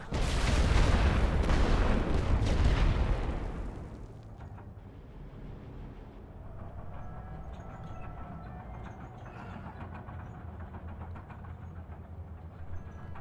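A7V flak panzer carrying AA guns in a Great War Western Front game: a loud, deep rumbling blast fades after a few seconds into a steady low engine drone with faint mechanical clanks.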